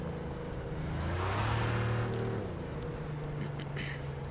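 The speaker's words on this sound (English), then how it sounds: "we'll turn off the radio so we can hear this beautiful car" A car engine in Cyberpunk 2077 revs up and then eases off, its pitch rising and falling steadily, with no talking over it.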